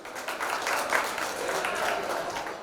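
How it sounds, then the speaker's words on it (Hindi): At an Independence Day UMANG 2024 event, the crowd gives a round of applause, a moderate, even wash of clapping heard at some distance and lasting a few seconds. "give a round of applause for yourself focus"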